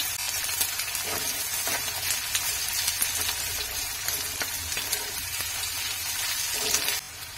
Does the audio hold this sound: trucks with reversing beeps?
no